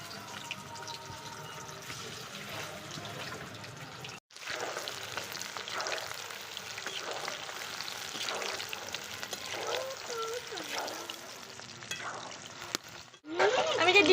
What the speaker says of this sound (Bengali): এবার যে ভাজবো পকোড়াগুলো লাল লাল করে ভাজবো।